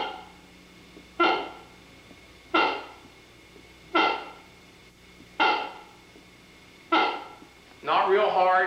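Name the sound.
reed moose call blown with cupped hands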